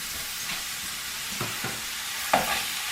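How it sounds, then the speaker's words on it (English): Ground turkey frying in olive oil in a not-too-hot pan while a spatula breaks it into bite-sized pieces; steady soft sizzle throughout, with a few light scrapes and one sharper tap near the end, no talking. "just kind of cut into the turkey a little bit with your spatula, get it into little bite-sized pieces."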